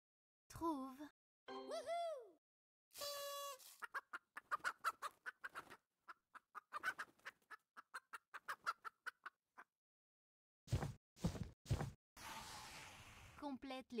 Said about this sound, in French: Trouve poule.